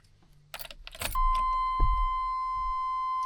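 Inside a Chevy Silverado K1500 truck, keys jangle into the ignition, then a steady electronic warning tone begins and holds continuously, loud and close, with a faint thump partway through.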